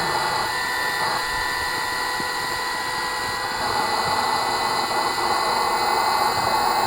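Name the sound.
pump inflating a drop-stitch inflatable kayak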